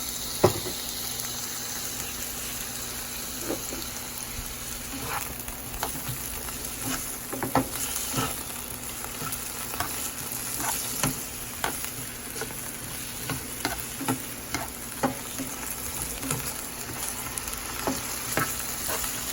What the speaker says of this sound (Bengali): সামান্য একটু তেল দিয়ে দিলাম, আর আলুগুলো ভেজে নিব